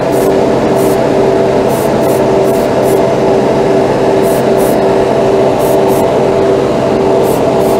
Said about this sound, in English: Let's blow off any dust.